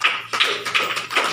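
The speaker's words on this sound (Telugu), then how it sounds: "క్లాప్స్" A few sharp, close hand claps in a slow uneven rhythm, four distinct strikes at a flag-hoisting event in Medak district.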